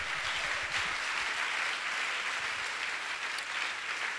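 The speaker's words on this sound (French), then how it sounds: "On se tient debout et on acclame très fort le Seigneur." Church congregation applauding the Lord while standing: steady, dense clapping from a crowd fills the space evenly throughout, fairly distant and without any voice on top.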